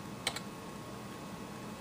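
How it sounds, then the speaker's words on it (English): A URL typed on a computer keyboard, heard as a quick pair of soft key clicks close by over a steady background hum, then only the hum. "you type it up here in the URL box"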